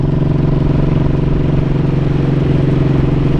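Motorcycle riding a mountain road, its engine running steady and loud with a throbbing, clattery drone that holds constant throughout, no voices.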